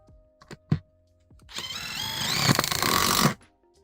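Screws being driven into a FlexiSpot desk frame with a power driver, a single whirring burst of about two seconds preceded by a few light clicks and knocks, close and fairly loud.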